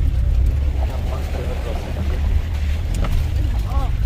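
A vehicle drives across a river on the way to Dudhsagar waterfall in Goa, with a loud, steady low engine rumble, splashing and wind buffeting, while voices talk over it.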